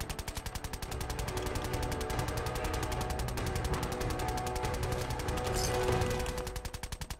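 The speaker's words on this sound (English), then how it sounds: "Something wrong with your gun. Because it is just constantly going." An automatic gun in the video game Fallout 4 fires nonstop in a rapid, even stream of shots, loud and close, with no pause for the whole stretch.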